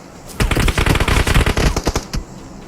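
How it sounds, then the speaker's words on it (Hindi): Rapid bursts of automatic gunfire from PUBG Mobile, played on an iPad Mini 5, rattle loud and close in a dense run of shots for about two seconds, then stop abruptly. "देखो तुम यहाँ पर फायर कहाँ से आ गया"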